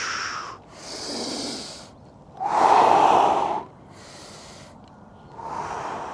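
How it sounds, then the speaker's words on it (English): Deep breaths drawn in and pushed out in a slow rhythm during a morning mobility workout, with about five close, loud breath phases, one louder exhale in the middle and short quiet gaps between them. "Breathe in and breathe in and out."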